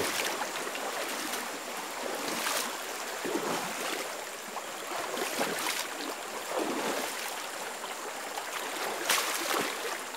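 Stream water flows and splashes while someone wades through a forest creek, a continuous rushing wash broken by brighter splashy bursts that recur every couple of seconds.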